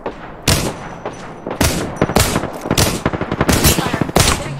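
Rapid gunfire from a team-based shooter video game, loud close bursts of automatic shots with sharp repeated cracks, alone without talk.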